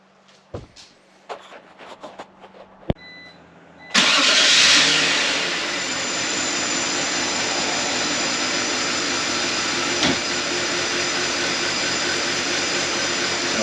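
A BMW E83 X3 with the M54 engine, fresh from intake work, cranks briefly amid a few clicks and clunks, then fires and settles into a steady, loud idle that runs on with one small bump.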